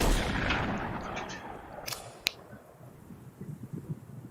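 Shotgun blast in the VR shooter Into The Radius, a single sharp report standing out over steady background noise, followed by faint clicks and handling sounds.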